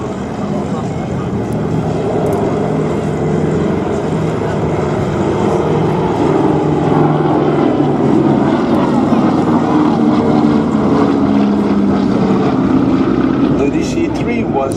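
Douglas DC-3 propeller airliners fly in formation at the Flying Legends airshow, giving a loud, steady, rumbling engine drone that holds without a break and swells slightly toward the end.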